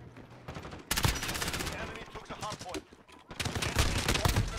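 Pistol and other gunfire crack in Modern Warfare, dense loud bursts of shots in quick succession with a short lull midway, dominating the mix.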